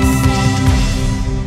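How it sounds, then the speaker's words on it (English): A cinematic impact hit lands inside a dense, loud guitar-based music composition built with the Lost Guitar sample library by Westwood Instruments, the sustained tonal bed ringing on without a pause and with no talking. "I'm actually going to add the impact and actually put it on the impact channel,"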